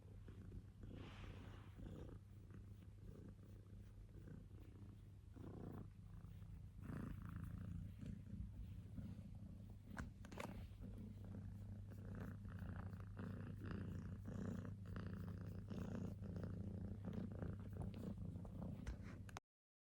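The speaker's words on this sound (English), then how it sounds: "He's purring." A pet cat purring softly and steadily at very close range, a low continuous rumble that keeps going for many seconds without voices.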